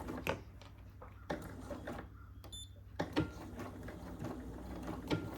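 A sewing machine stitches a quilt block slowly, giving a quiet, intermittent mechanical whir and clatter in short starts and stops, close by in a calm room.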